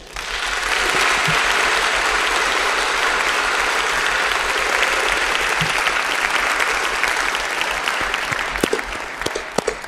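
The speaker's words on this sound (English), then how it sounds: "I hope you noticed that I joined the applause." Sustained applause from a university lecture audience welcoming a speaker, a dense, loud wash of clapping that holds steady and thins out slightly at the end.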